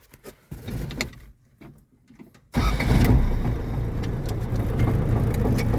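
A van engine cranks and starts on the ignition, settling into a loud, steady idle after brief rustling and clunks; no one speaks.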